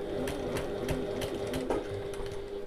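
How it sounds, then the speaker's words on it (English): A domestic sewing machine runs steadily, stitching a seam on a fabric bag at a regular stitch length, with a constant close whirring hum and faint rhythmic needle ticks throughout, no talking. "I'm going to sew around using my regular stitch length and my regular seam allowance."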